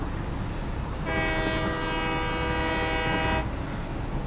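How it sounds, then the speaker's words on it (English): A loud train horn in the video game Satisfactory blasts once for about two seconds over a steady rumbling background as the train heads down a hill, then cuts off. "I definitely think the train horn is appropriate going down this hill"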